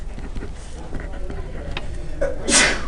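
A single sneeze breaks out in a classroom during a calculus lesson, loud and sharp near the end, with quiet room noise before it.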